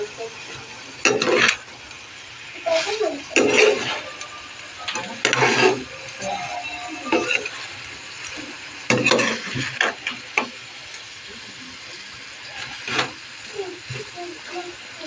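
Stirring and frying sea adobo in oil with lemongrass, bursts of scraping and sizzling come in uneven waves over a steady background hiss, close and moderately loud.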